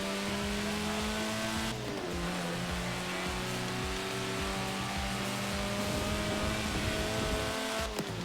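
A Lotus Elan sports car in the Forza Horizon 4 racing game, its engine droning at a steady pitch and climbing through gear changes, loud and continuous with no talking.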